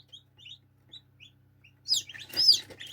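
Newly hatched chicks fresh from an incubator peep in short, high, scattered chirps, quiet at first, then a louder cluster of overlapping cheeping near the end, close by against a low steady hum.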